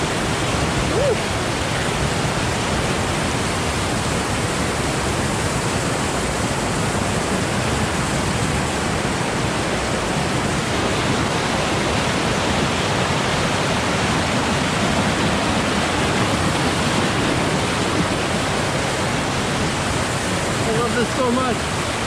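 A mountain creek in Alaska rushes steadily nearby, a loud, unbroken broadband roar of cold water that holds constant for the whole stretch with no pauses.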